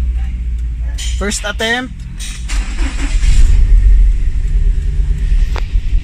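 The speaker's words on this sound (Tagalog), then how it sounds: "Subukan natin i-start kung gagana siya." A car engine cranks in a few quick turns, then catches and settles into a steady, fairly loud idle, running high on a cold start after a no-acceleration fault. Someone speaks briefly over the cranking.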